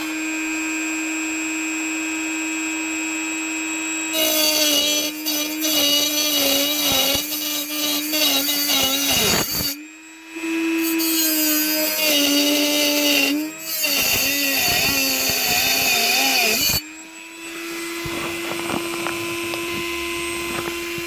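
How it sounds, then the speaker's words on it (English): A Dremel rotary tool whines loudly as it cuts into a Stihl 034/036 chainsaw muffler, a high sustained buzz broken into three long bursts with short pauses between, close up and with no talking. "Okay, so we'll make those cuts with the Dremel."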